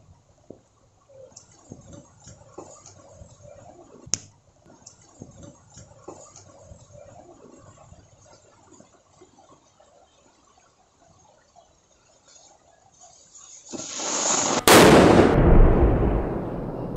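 A homemade firecracker being lit outdoors, quiet rustling and small crackles at first, then a loud sustained blast and roar close by that dominates the last few seconds.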